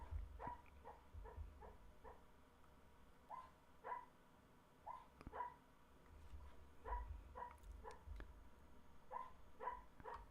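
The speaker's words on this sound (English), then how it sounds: "That is my dog dreaming and kind of softly barking." A sleeping dog barks softly while dreaming, a run of small muffled woofs and yips in uneven bursts across a quiet room, fairly faint and with no talk.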